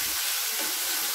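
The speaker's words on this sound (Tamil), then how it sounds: "இது எல்லாத்தையும் நல்லா வதக்கிக்கலாம்." Onion and garlic sauté in a pan for tomato chutney, a steady close hiss of frying with faint soft stirring bumps underneath.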